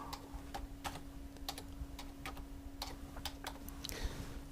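Keys clacking on a computer keyboard in short irregular bursts as a file name is typed, close and clear over a steady low electrical hum, with no talking.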